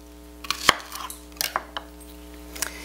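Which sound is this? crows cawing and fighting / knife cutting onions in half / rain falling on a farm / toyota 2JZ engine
knife cutting onions in half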